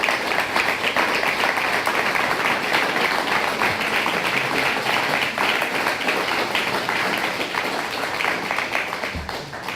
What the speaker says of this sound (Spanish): Les damos también un fuerte abrazo y un fuerte aplauso.